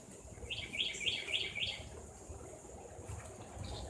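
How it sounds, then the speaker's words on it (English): Cardinals and mockingbirds sing outdoors during flintknapping, a quick run of four bright, repeated chirps followed by a softer call, faint against a low ambient background. "Old cardinals are singing in the background."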